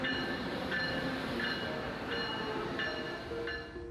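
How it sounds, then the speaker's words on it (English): A Metro North New Haven line train rolls along as heard from inside the cab, a steady loud rumble and hiss with a regular clickety-clack of wheels over rail joints. "Today we are going to be riding back to Grand Central Terminal on Metro North's New Haven line."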